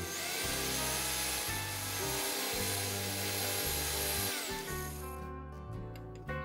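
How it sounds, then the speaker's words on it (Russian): A power drill whirs steadily with a rough, scraping rub as sandpaper grinds a wooden disc spinning in its chuck into a round shape, pausing and restarting several times before stopping. "всю эту конструкцию зажимаем в дрели. Ну и при помощи наждачной шкурки делаем форму круглой."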